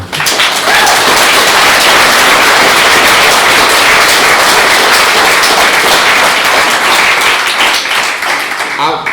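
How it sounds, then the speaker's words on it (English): A round of applause at a county judge and sheriff debate, loud dense clapping from a crowd filling the whole stretch, with voices mixed in underneath. "This be a good time to give them all a round of applause"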